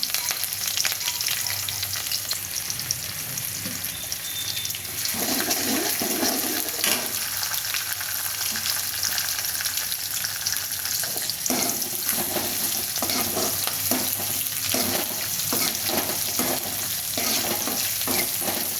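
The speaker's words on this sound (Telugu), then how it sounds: "ఆనియన్స్ బాగా ఎర్రగా వేగాలి అప్పుడే కర్రీకి మంచి టేస్ట్ వస్తుంది" Sliced onions and curry leaves fry in a pan for a curry, a continuous close sizzle with repeated scraping stirs in the latter part.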